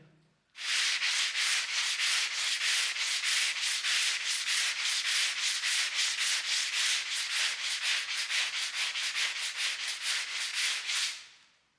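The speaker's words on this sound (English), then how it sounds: "you might wonder why we're sanding by hand" Sandpaper worked by hand over the woodwork of a Victorian stairwell makes a fast, steady run of loud, raspy back-and-forth strokes lasting about eleven seconds, close up and with no voices.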